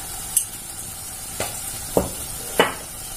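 Coriander powder stirred in a pan while making lady fish curry: four short scraping strokes of a spoon across the pan, spaced out and close by, with no talking.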